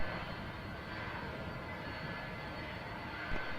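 Steady roar of a heavy Boeing 747 jet engine departing an airport, a broad continuous rumble holding level throughout with a slight swell near the end, no voices.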